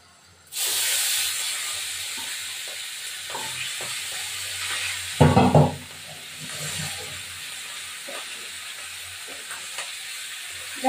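Rohu fish heads drop into hot oil and fry with a loud, steady sizzle and hiss, a brief crackling burst flaring up midway, with no talking.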